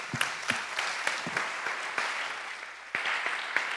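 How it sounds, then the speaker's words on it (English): Scattered audience applause at a panel event on protagonism and creativity, a modest crowd clapping steadily at mid distance with a few sharper claps standing out, no voices over it. "So I think we should give all the previous panelists a big round of applause again"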